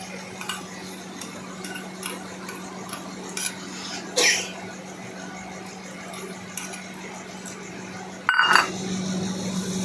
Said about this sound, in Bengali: দিয়ে সেটাকে ভালো করে এদিক ওদিক নাড়াচাড়া করে ভাজলাম